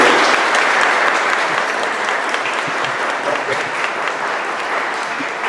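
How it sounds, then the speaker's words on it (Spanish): An audience at a history lecture on Inca nobility claps for the speaker, a dense, steady roar of many hands at close range that holds evenly throughout, tapering only slightly. "un aplauso para ti."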